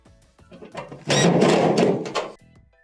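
Power driver with a 1/4 inch bit driving a screw into a Maytag dryer drum assembly, a short whirring motor burst of about a second, near and clear, with brief handling clicks before and after.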